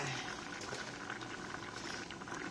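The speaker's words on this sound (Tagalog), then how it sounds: "Kumukulo-kulo ng ating nilutong munggo." Mung beans boil in a pot with bitter gourd leaves about to go in, a quiet, steady bubbling and simmering that carries on evenly for a few seconds.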